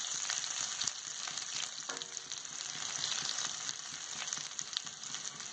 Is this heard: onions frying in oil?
yes